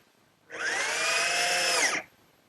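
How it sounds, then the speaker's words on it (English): A power drill drives a 1-inch drywall screw into an oak medicine cabinet in a workshop, whirring for about a second and a half, the pitch sagging slightly as the screw seats before the motor stops. "And I'll fasten it in place using some 1-inch drywall screws."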